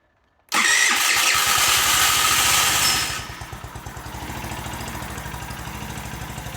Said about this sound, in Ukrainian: от я пробую його стартером заводити. Включаємо зажигання.